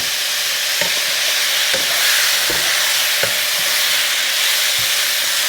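Food fries in a hot pan while being stirred, a loud, close, continuous sizzle broken by a few soft scraping knocks from the stirring.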